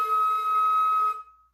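A lone flute head joint sounds a steady high harmonic, one clear sustained whistle-like tone held for about a second before fading out, with no talking.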